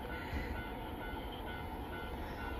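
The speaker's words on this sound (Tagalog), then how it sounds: "May dadaan ulit na train." A train rolls past a rail crossing at night in Japan, a steady rumbling roar that holds evenly throughout the short stretch, with no talking.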